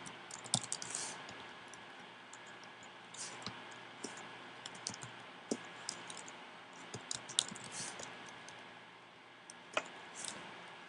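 Fingers type on a computer keyboard in quiet, irregular bursts of light clicking keystrokes, close and fairly soft, with brief pauses between runs and no talking.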